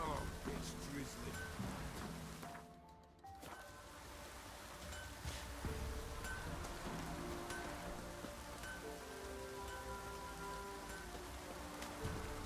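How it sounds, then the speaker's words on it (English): Light rain drizzles in the video game Witcher 3 Wild Hunt, a steady soft patter under game music and character voices, briefly dipping before resuming. "Oh, it's drizzling."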